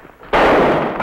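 A single gunshot from a 1952 TV western, a sudden loud blast that breaks a quiet moment and then trails off in a broad rumbling decay.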